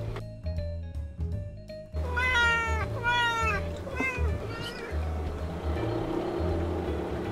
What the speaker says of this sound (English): it's only two cats.